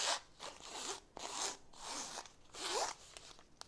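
Several zipper pulls on a pencil bag full of pencils, each a quick rasping zip lasting about half a second, up close and fairly loud with short pauses between.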